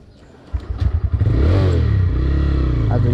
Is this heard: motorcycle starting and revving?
yes